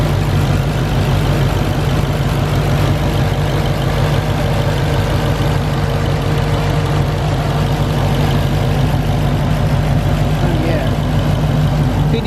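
A Dodge Charger Hellcat idles steadily with a deep, constant engine rumble and a faint supercharger whine riding on top, close and loud for the whole stretch, with some voices talking underneath.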